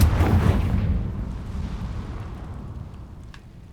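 A Confringo fire spell explodes in Hogwarts Legacy with one loud booming blast that rolls off into a long fading rumble, with no talk.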